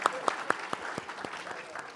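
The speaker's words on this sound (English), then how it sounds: "Can we have one more big thank you and round of applause?" Audience applause for a harmonium master at a Gita Jayanti gathering: steady clapping from a crowd with sharp individual claps standing out at regular intervals throughout.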